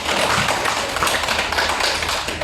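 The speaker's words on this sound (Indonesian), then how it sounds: "kita berikan aplaus" Applause from a school class after a lesson presentation, a dense, steady patter of many hands clapping together that holds loud and even for the whole stretch, with no talk.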